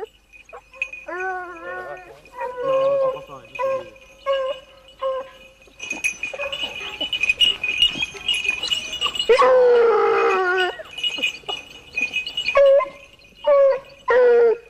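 Wild boar hunting hounds on a fresh trail give tongue in repeated yelping barks and drawn-out bays, several dogs calling in overlapping bursts with short pauses in between, fairly close and loud.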